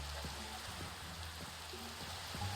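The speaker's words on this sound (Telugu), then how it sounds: "ఓ, వర్షం పడుతుంది." Video game rain falls steadily as a soft hiss of drops on surfaces, faint and continuous, with a few low thuds and tones from the game underneath.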